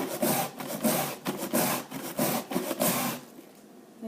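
Cabbage being finely shredded, a rapid series of rough scraping strokes in a steady rhythm, close and alone for about three seconds before trailing off.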